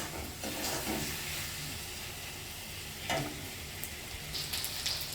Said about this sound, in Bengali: আস্তে আস্তে করে আস্তে আস্তে করে ভেজে নেব আমি